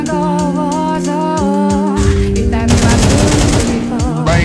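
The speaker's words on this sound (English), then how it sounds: "Brokey tries a wall bang." Rapid gunfire rings out in Counter-Strike 2 as shots are fired through a wall during a match, sharp bursts layered over busy game sounds and electronic tones.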